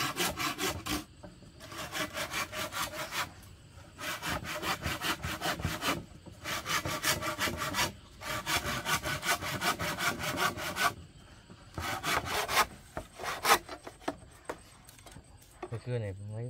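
A hand saw rasps steadily through wood in rhythmic strokes, loud and close, pausing briefly between bursts of sawing.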